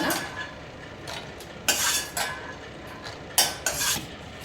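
Peanuts go into a mixer jar, heard as a few sharp clinks and rattling scrapes of a spoon against the jar, spaced irregularly over a faint background hiss.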